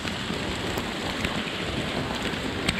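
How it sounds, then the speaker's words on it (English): Heavy rain pours steadily over open ground, a dense unbroken hiss with occasional sharper drop hits, close and loud, no voices. "It's raining hard."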